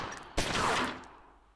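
A burst of gunfire in the turn-based gangster game Omerta: City of Gangsters, one sharp crack followed by a dense, rolling volley that fades out over a second.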